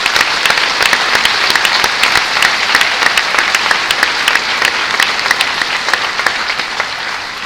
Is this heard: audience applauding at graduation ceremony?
yes